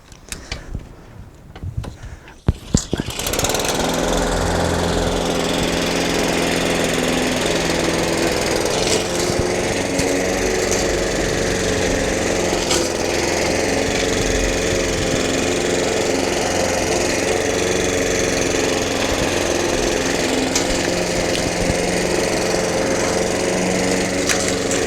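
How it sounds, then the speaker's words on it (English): A petrol lawn mower starts up and runs steadily for the rest of the clip, a loud continuous engine drone while it tidies a lawn edged with Smartedge edging. "So I'm just going to fire up the mower"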